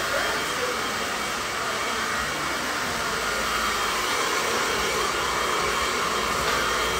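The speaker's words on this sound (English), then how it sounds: "He has the heat turned all the way up when he rough dries." A hair dryer on high heat rough-dries hair, a loud, close, unbroken blowing roar that holds steady from start to finish.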